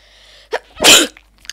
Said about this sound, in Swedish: Nej, vad jag nyser nu.